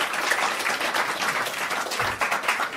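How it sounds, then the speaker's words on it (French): Dense audience applause, many hands clapping steadily and fairly close, with no voices on top. "on peut l'applaudir, il a fait tout ce qu'il fallait."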